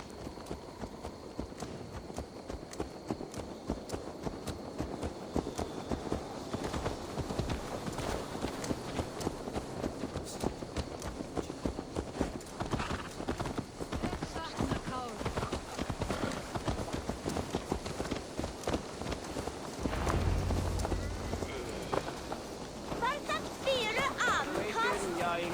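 Horse hooves clip-clop in a steady walking rhythm throughout a scene in the video game Assassin's Creed Valhalla, moderately close, with game ambience and a brief low rumble near the end beneath it.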